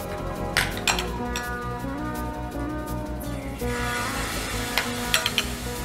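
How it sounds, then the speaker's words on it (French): Banana cakes frying in hot oil for a Mauritian Divali spread, a steady close sizzle and crackle running throughout with occasional utensil clinks and stirring scrapes, no voices. "On va maintenant passer à la friture."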